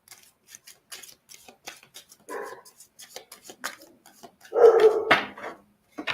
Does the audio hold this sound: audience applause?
no